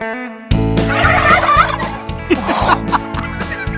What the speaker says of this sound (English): They spend most of their time gobbling and showing off.